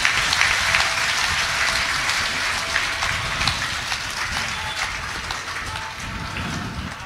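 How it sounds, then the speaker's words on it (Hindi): Audience at a religious discourse gives a thunderous round of applause, a continuous dense wash of clapping that holds steady and loud from start to finish without speech. "एक बार सब एक दूसरे के लिए तालियों की गड़गड़ाहट कर रहे हैं"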